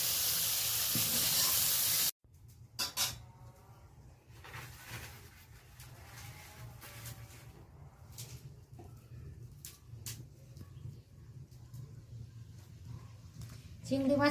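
Large tiger prawns fry lightly in a kadai, with a loud, hissing sizzle for the first two seconds. It then drops to a quieter, steady crackle beneath a person talking.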